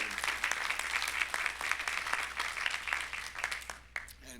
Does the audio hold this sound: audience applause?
yes